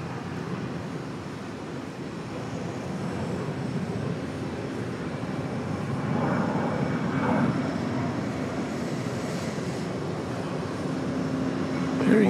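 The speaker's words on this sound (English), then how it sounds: "Here you see in the distance coming in to the east side of the airport, Southwest flight 4330, the 737-800 arriving from Long Beach" A Southwest Boeing 737-800 arriving from Long Beach lands at Dallas Love Field, its engines a steady distant roar that swells slightly midway, with background traffic noise and no talk.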